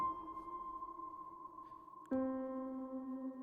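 Soft sustained synth tones from Mat Zo's Random MIDI Tools hold, then shift to a new chord midway, washed in a hazy reverberant tail; quiet and unhurried.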